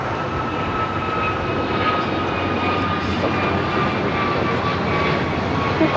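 A fixed-wing airliner roars down runway 25 Right at Los Angeles International Airport on takeoff, a steady, loud, broadband engine rumble with a faint whine that holds unbroken throughout, with no voices.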